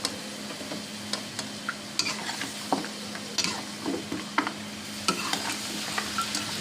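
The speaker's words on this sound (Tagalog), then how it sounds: "Igisa muna natin ito." Cabbage sautéing in a hot pan while beef caldereta is being made, with a steady sizzle and repeated scraping stir strokes from a utensil, heard up close without any voices.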